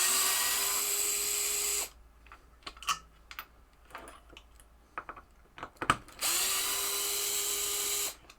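Screws driven back into wood on a 1978 Bally Strikes and Spares pinball playfield: a sustained power-driver whir, then a quiet gap with scattered clicks and taps, then another long whirring run.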